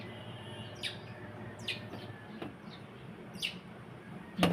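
Bright, brief bird chirps sound every second or so over a quiet, steady outdoor hum, fairly close and clear.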